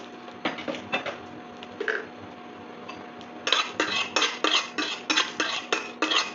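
Whole coriander, cumin, dry red chillies and a bay leaf are stirred in a dry pan, giving light scraping, rattling strokes that grow into a steady, faster run of rhythmic scrapes in the second half, with no talking.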